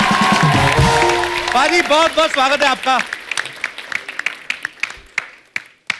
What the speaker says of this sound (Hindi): एक बार अक्षय पाजी के लिए खुल के तालियां।